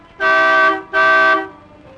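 Two long car horn blasts, each about half a second, separated by a brief gap, loud and close with nothing else around them.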